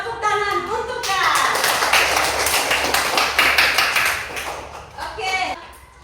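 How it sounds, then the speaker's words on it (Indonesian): An audience clapping at a classroom talk or presentation, a dense burst of many hands starting abruptly after a voice, holding steady for several seconds then thinning out near the end. "Tepuk tangan untuk Kak."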